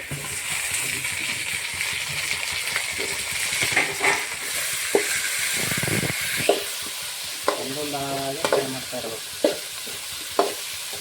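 Chopped tomatoes frying with onions in a pan for bisibele bath, a steady bright sizzle running throughout, broken by sharp scraping stirs and occasional spoon taps against the pan. No voices.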